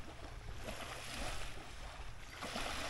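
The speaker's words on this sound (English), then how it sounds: "Water just breaking on the shoreline." Water laps and breaks gently along the Lake Simcoe shoreline in Ontario, a steady close wash with soft surges, mixed with light wind and no talking.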